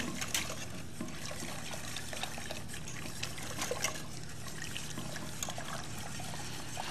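Water trickles and streams steadily while cooking in a kitchen, a continuous close wash of liquid with small splashy flickers throughout, no voices present.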